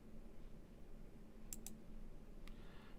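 Three faint, crisp computer mouse clicks while working in CAD software, two in quick succession and a third a second later, over a quiet room hiss.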